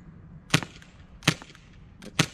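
A G&G Armament airsoft rifle fires semi-automatic into ballistic gel, giving three sharp, close snapping shots at uneven intervals with quiet between them.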